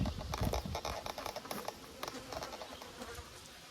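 Honeybees flying around a weak hive, buzzing in short close passes with irregular patters and clicks, fairly quiet and without talk.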